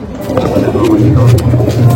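Punjabi Malwai pigeons cooing steadily in a low, continuous murmur with faint background voices, the soft rolling coos overlapping throughout.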